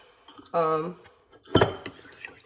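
Honey glaze for salmon stirred with a metal utensil in a bowl, a ringing scrape followed by a sharp clatter and a few lighter clinks, close by and brief.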